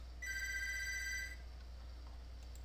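A telephone ringing in a quiet home, a steady electronic bell tone that rings clearly for about a second and then stops, with low background hum and no talking.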